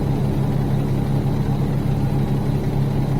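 A Western Star 49X truck in American Truck Simulator drones steadily as it gains speed, a dense low engine rumble that holds even and loud throughout with no talk over it.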